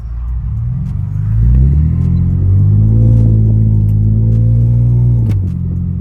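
Infiniti Q50 engine with a repaired header exhaust leak, revving up close and loud, rising in pitch then holding a steady higher rev before dropping back, with no talking.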